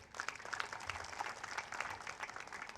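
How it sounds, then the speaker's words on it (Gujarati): Audience applause welcoming visiting holy men at a Sai Baba katha recitation festival, a steady dense wash of many hands clapping at moderate distance, with no speech over it. "વ્યાસપીઠથી જ એમનું સ્વાગત આપણે તાળીઓથી"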